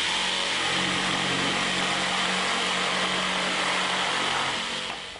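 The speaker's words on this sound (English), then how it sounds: "See what a dramatic difference the orbital action makes to the cutting speed, particularly in thick timber." A Bosch GST140BCE jigsaw with orbital action cuts through thick timber, a loud, continuous, harsh rasping buzz that holds steady before tailing off at the end.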